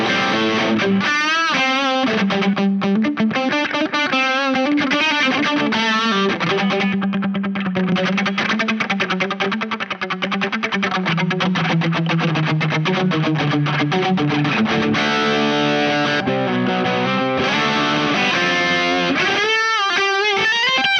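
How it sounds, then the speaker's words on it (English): Electric guitar played through a Brothers AM treble boost (Chase Bliss and Analogman) feeding a drive pedal, giving loud, sustained, distorted chords and riffs that fill the whole stretch with bright, saturated overdrive. "Now let's see what happens if we run the treble boost into a drive."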